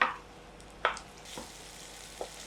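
Sliced onion and green chillies frying in a home kitchen pan for plain pulao, a soft continuous sizzle broken by a few sharp stirring scrapes, close and moderately quiet with no talking.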